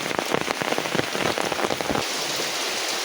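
Dense, steady rain patters and splashes across standing water, close and continuous, with no voices, on a stormy village night.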